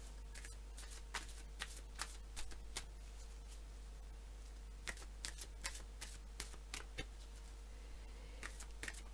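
Gaia oracle cards being shuffled by hand, with soft crisp riffles and light taps in uneven bursts over a constant low electrical hum, faint and close.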